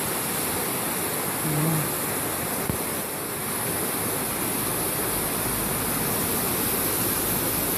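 Rushing water roars continuously nearby, a broad, steady flow with a faint hum and a brief thump partway through.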